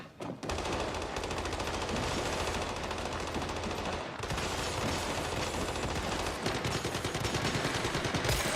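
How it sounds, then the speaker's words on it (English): Automatic gunfire in the survival shooter game Once Human: rapid, loud bursts of shots rattling almost continuously, broken by a brief gap midway before resuming. "Warning shots. Warning shots."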